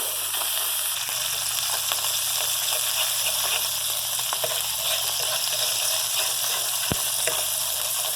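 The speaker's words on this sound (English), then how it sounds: "these sausages didn't have many drippings, so I'm adding some butter in there" Butter and flour frying together in a pan holding sausage drippings, a steady close sizzle with broadband crackle, faint low hum beneath and occasional sharp pops.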